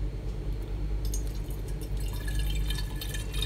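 Lime juice poured back into a jug gives a steady liquid trickle and splash with small drips, close and fairly loud over a low background hum, no voices.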